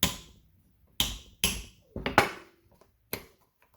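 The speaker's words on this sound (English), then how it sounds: "This hammer will give me a lot of inertia. I should just be able to tap on this right here" Sharp metallic hammer taps strike a flange on a 1977 MGB heater valve: six separate knocks spread over a few seconds, two of them in quick succession, each ringing briefly before silence.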